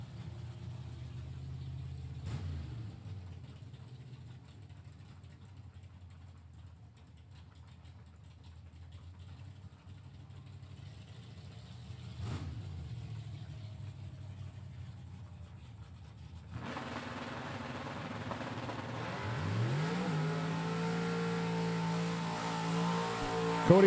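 A red Chevrolet Camaro and another drag car at a Super Pro bracket race, heard as a steady rumbling idle in the staging lanes that swells into a louder, rising engine roar near the end.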